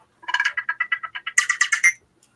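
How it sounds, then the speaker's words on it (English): A phone rings for an incoming call with a rapid, chirpy electronic tone that pulses in a steady run of short bursts. It then shifts into a brighter, busier stretch before stopping, and no talk is heard over it. "Phone call."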